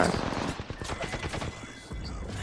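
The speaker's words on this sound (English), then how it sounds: "There's just a lot of gunfire going on." Dense gunfire in a multiplayer shooter video game, rapid overlapping automatic bursts and single shots, fairly close and loud, with a brief lull near the end.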